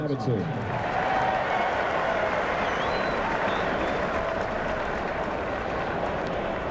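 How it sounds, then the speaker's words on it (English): A stadium crowd at the 2003 New York Mets opening game against the Cubs applauds broadcasters Gary Cohen and Ted Robinson, a steady, dense wash of clapping and crowd noise filling the space with a voice faintly underneath. "Ladies and gentlemen, how about a nice round of applause for Gary Cohen and Ted Robinson"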